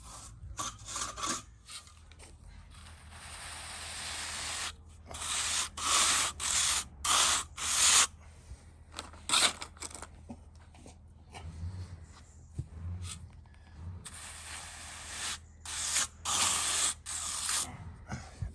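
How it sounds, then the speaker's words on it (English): Sand is shoveled and spread into a void beneath paving slabs, with bursts of gritty scraping and raking, loud and close, separated by short pauses. "So you need to fill that void in with some sand."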